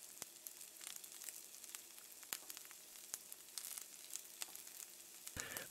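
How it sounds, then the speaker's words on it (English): Tunisian brik pastry filled with parsley and an egg yolk frying in hot oil, a soft continuous sizzle with sharp pops and crackles scattered throughout and a burst of louder bubbling at the end. "into the hot oil for frying"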